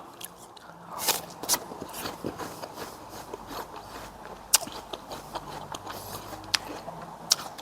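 Crunchy bites and chewing up close on a crisp Fuji apple, with sharp crisp snaps scattered among softer rustling and mouth noises.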